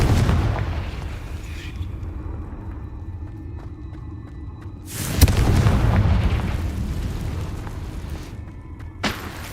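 A Confringo fire spell explodes in Hogwarts Legacy: a sharp, loud blast with a rumbling tail, followed later by a smaller pop, over low background noise.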